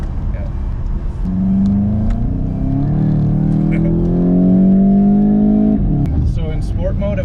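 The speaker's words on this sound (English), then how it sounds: "it has one of the nicest stock exhausts I have heard" Stock exhaust of a 2017 Volkswagen GTI in sport mode, a loud close engine drone that rises in pitch through a long acceleration before easing off, with a brief note of talk at the end.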